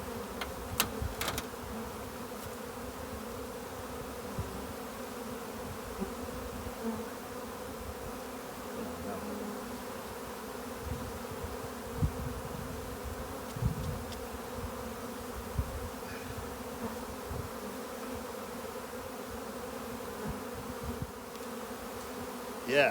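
Honey bees buzz at an open hive whose combs are full of brood, making a soft, steady drone that holds for the whole stretch with a few brief knocks and no talking.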